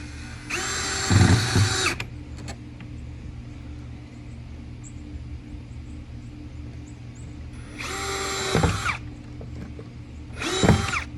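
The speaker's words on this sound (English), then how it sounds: "I'm using my HART drill with the HART drill bit" A HART cordless drill whirs in three bursts, driving 8 by 1 5/8 screws while repairing a fence gate, with a high motor whine, separated by quieter pauses with faint background hum.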